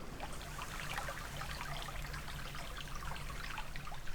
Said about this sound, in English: brought me down to this really pretty creek